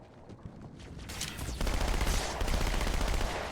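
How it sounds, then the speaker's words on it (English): Dual SMGs in Halo 2 fire a rapid, sustained stream of shots that swells louder after the first second and keeps rattling steadily without speech. "I could load up on double SMGs."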